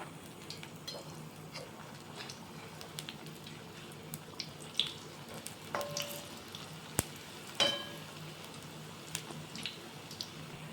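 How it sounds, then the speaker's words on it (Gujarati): Gram flour bhajiya frying in hot oil over a medium gas flame: a quiet, steady bubbling sizzle dotted with small pops and occasional clicks of a utensil turning the fritters. "આવી રીતે હું બધા જ ભજીયા તેલમાં મૂકી દઈશ"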